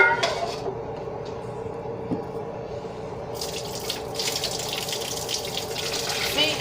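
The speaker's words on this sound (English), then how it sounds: "See, you're just throwing all the water in there." Water from a pot of cooked posole is poured off in a steady splashing gush into a sink, growing brighter and stronger partway through, with no talking.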